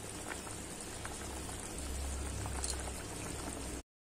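Shol fish curry broth with potatoes boiling in a pot, a close, steady bubbling and popping simmer that carries on for about four seconds before cutting off, with no talking.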